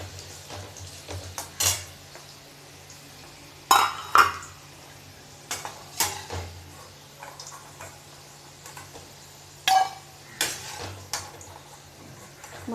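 Fried potatoes lifted out of a pan with a metal utensil, a series of sharp clinks and scrapes against the pan spaced out over steady background hum, no talking.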